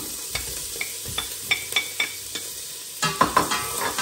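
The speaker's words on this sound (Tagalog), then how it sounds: "Gisa-gisa natin. Siyempre. Ay, grabe yung sibuyas." Onions stirred in a hot pan with margarine, a series of scraping stirs and soft crackles over a low, steady sizzle, close and alone with no voices.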